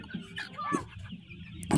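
Fayoumi chickens on a farm cluck in short, close bursts, with a sharper squawk near the start and a louder flurry at the end, no talking.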